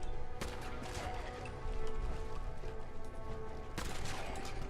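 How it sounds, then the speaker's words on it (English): Machine gun turret in Fallout 4 firing: dense rattling bursts of gunfire over a busy low rumble, with a couple of sharper loud cracks standing out, close and continuous with no voices. "Oh, machine gun turret."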